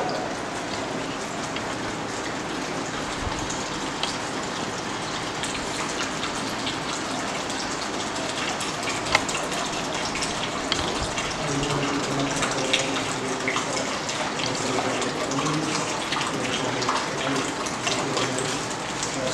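Water splashes steadily into a polythene bag, a continuous close rushing pour that holds at an even level throughout.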